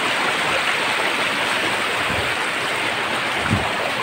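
A creek flows in a continuous broadband rush of water, steady and fairly close, with a couple of soft low splashes and no talking.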